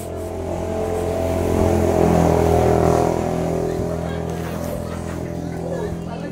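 Motorcycles pass along a street on the Marilaque route, engine noise swelling to a peak midway and then fading, with a voice talking over the traffic.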